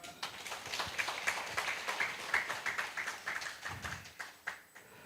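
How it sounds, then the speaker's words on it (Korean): An audience at a diabetes academy event claps to welcome attendees as they are introduced, a steady patter of many hands with repeated swells and peaks, fairly distant and quiet, without talk. "한 분 한 분 소개될 때마다 큰 박수로 환영하여 주시기 바랍니다"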